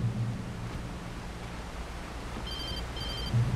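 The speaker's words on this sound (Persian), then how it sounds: "تلفنم، آی تلفن زنگ میزنه." A telephone ringing in the video game Alan Wake, two short electronic ring bursts heard faintly under a steady noisy game background.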